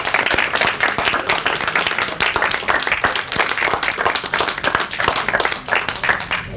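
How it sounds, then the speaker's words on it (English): An audience applauds students at a capstone presentation, with dense, continuous clapping from many hands, fairly loud and close, sustained throughout without talk. "I would like to ask all my friends and colleagues to applaud our students."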